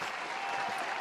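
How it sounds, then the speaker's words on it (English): A short burst of steady applause from a small podcast audience, dense and even for about a second. "Round of applause for making it to 41"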